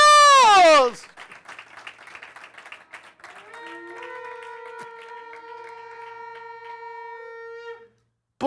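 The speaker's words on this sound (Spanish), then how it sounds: "dele la ofrenda de palmas a Dios" A church congregation at a Spanish-language service gives an offering of applause: a shout, then about two seconds of scattered clapping, fading as sustained keyboard or organ tones enter and hold.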